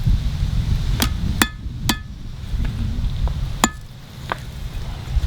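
A hammer strikes hot metal at a forge while a coal rake is being bent, five or six sharp ringing blows spaced irregularly over a low, steady background rumble.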